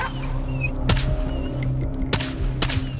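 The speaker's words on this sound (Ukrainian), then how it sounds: "Звуки пострілів були відтворені з урахуванням різноманітних умов, таких як відкритий простір" Gunfire in the video game S.T.A.L.K.E.R. 2, three sharp separate shots over a low steady ambient hum, loud and close with brief ringing tails and no talk.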